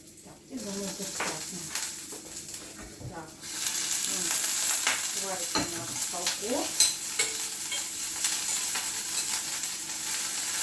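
Pork cracklings fry in a pan with a loud steady sizzle, while a utensil scrapes and stirs through them and someone talks over the cooking.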